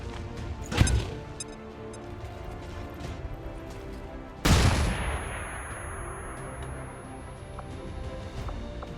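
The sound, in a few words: explosion in XCOM 2 video game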